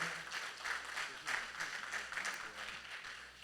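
A church congregation claps together in a steady wash of applause, fairly faint and diffuse as if heard from across the room, with a voice speaking over it.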